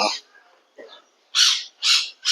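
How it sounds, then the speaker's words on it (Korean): Birds at a Chiang Mai cafe and restaurant kept with parrots and other birds give loud, harsh squawking calls, three strong bursts after softer chatter, fairly close. "여긴 또 새가 있네요, 새."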